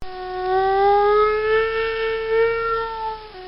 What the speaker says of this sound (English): Tornado sirens go off when we're put into a tornado warning